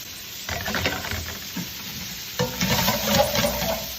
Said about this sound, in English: To our pans, we're gonna add a little bit more olive oil, and we're gonna add our tomatillos, some onions and garlic,